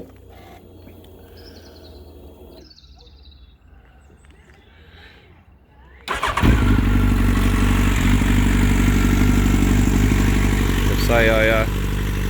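A 2014 Yamaha FZ1 Fazer motorcycle cranks and fires after a quiet stretch with faint birdsong, then settles into a loud, steady, close-up idle with a brief rev near the end.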